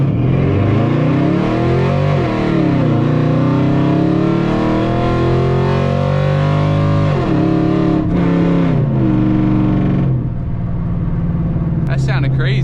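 An SRT8 car accelerating hard with no traction, its engine roaring loud and close with rising and falling revs through the pull, then dropping off near the end.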